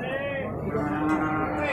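A white PO (Ongole breed) cow lets out a single long, low moo, close and steady, held for nearly two seconds.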